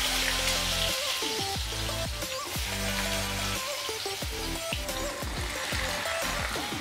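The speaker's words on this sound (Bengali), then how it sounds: "প্রথমে আলুটা ভেজে নেব।" Cubed potatoes for Bengali ghugni fry in hot oil with a steady crackling sizzle, close and continuous, while music plays throughout.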